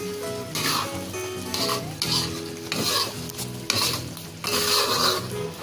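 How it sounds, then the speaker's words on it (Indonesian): A spatula scrapes and stirs seblak in a hot pan, with repeated rhythmic strokes over a steady sizzle, close and clear with no talking. "Oke, kita aduk lagi."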